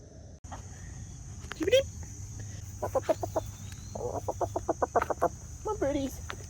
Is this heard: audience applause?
no